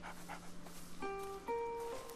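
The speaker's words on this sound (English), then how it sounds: "That's one big dog, damn." A large dog in A Plague Tale: Innocence pants and gives short whining tones, close and moderately loud over a soft game background, with no speech.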